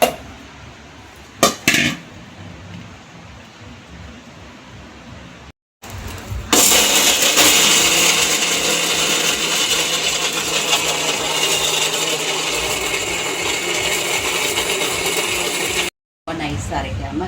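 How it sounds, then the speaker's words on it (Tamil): A mixer grinder whirs loudly and steadily as it grinds sundakkai chutney ingredients, a sustained high motor whine after a few brief clicks, cutting off briefly before resuming. "நல்லா சூடு ஆறுனதுக்கப்புறம் அரைக்கணும்."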